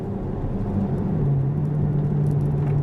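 The 730bhp V12 of a Ferrari F12 Berlinetta hums low and steady in 5th gear, a close, even rumble with road noise and a slight pitch drop partway through.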